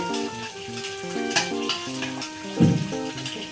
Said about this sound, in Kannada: ಅದೇ ಬಾಂಡಿಗೆ ಆಯಿಲ್ ಹಾಕೋಬೇಕು ಇವಾಗ